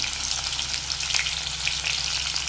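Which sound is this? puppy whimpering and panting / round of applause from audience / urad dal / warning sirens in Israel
urad dal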